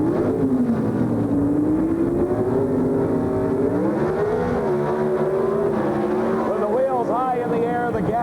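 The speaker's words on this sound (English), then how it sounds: "The gasoline-burning Pro Stock cars race to the finish line, and a close race it is" Gasoline-burning Pro Stock drag race cars run to the finish line at a 1980 NHRA national event, engines holding a loud sustained roar with rising and falling pitch, while a commentator speaks over them throughout.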